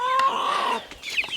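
A broody hen gives a drawn-out, rising and falling cluck close by, followed by a couple of shorter clucks in a quick, brief burst.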